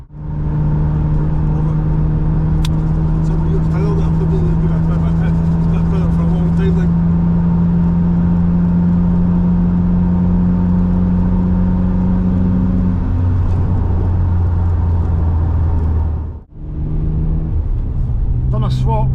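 A £200 Vauxhall Astra saloon gives off a steady, loud low engine rumble while driving on a dark winter road, with a humming drone that holds for most of the stretch, dips briefly near the end, then resumes.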